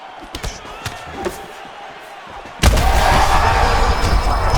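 Punches and kicks land in the UFC 5 fighting game, with a few sharp, separate impacts over low ambience, then a sudden loud, sustained burst of crowd roar and thudding hits.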